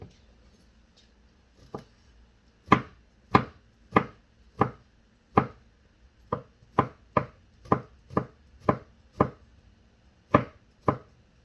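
Garlic chopped with a knife on a board in a home kitchen: a dozen or so sharp, close knocks, sparse at first and then in a steady uneven rhythm, with no talking.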